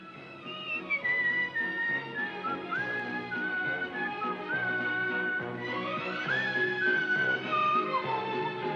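A melodic tune whistled alone, clear and close, with sliding, sustained notes rising and falling for several seconds.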